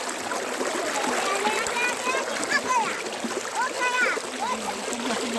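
A waterfall at a picnic spot gives a steady, broad rush of splashing water, with children's voices and chatter faintly over the constant roar.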